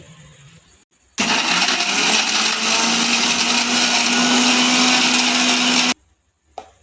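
A kitchen mixer grinder runs steadily for about five seconds, finely grinding grated coconut for sambar: a loud, continuous whir with a steady motor hum. Brief quiet gaps come before it starts and after it stops.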